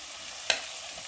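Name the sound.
frying ginger, garlic and green chilli paste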